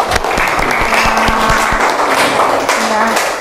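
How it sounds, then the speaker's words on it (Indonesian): A classroom applauds group 1 with a burst of dense clapping from many hands, loud and close, while a voice talks over it and the clapping thins out toward the end. "tepuk tangan untuk kelompok 1"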